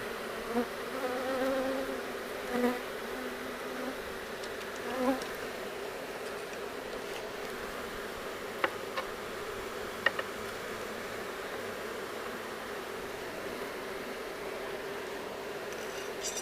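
A constant hum of honey bees buzzing en masse, close and steady, with occasional individual bees zipping past the microphone.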